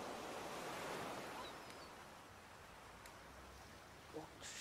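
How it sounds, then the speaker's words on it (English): Gentle ocean waves rush onto the shore in a soft, continuous broadband wash that swells and slowly recedes, faint and distant, with a breezy hiss. "Hear the gentle rush of waves"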